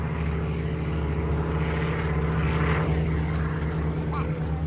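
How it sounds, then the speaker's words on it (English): A propeller airplane passing over a Florida nature center park, a steady droning hum under children's and adults' chatter nearby. "there's lots of planes, huh?"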